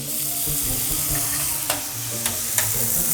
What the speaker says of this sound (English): Flambe! So now the alcohol is going all out.